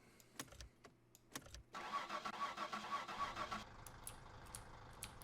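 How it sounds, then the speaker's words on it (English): A car engine in the video game My Summer Car cranks after a few clicks and knocks, catches and runs loudly for a couple of seconds, then settles to a quieter idle. "Back in the car."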